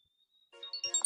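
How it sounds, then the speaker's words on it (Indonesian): A phone ringtone starts faintly with a thin steady tone, then bursts into a brighter rising electronic melody that grows louder over about half a second. "Ada telepon nih."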